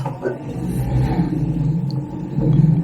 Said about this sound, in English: I'm just going to reposition the car now.